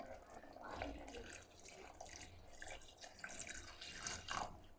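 Coconut milk is poured into a pan of mutton gravy in a home kitchen, making a steady watery splashing and trickling over a low background hum.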